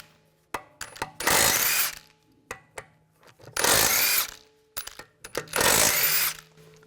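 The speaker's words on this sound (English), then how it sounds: "take the lug bolts out." Three loud, close whirring bursts from a power tool driving a 17mm socket to remove wheel lug bolts on a 2004-2009 Audi A4 Quattro, separated by quieter metallic clicks and handling sounds.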